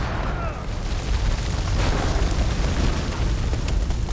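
A grenade blast in the video game House of Ash, heard as a heavy, rumbling explosion that fills the whole moment, loud and close, with a voice talking over it.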